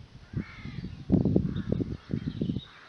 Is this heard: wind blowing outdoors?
no